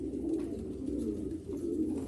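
Low, rolling coos from young breeding-loft pigeons sound close and steady, repeating in soft throaty pulses with no voices.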